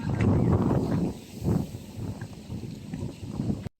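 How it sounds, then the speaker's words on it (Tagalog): Strong wind buffets the microphone in heavy low rumbling gusts, blowing dust, loudest at the start and easing slightly, with no one talking. "Oh, lakas ng hangin."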